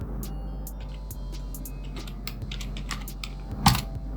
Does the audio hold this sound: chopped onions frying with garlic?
no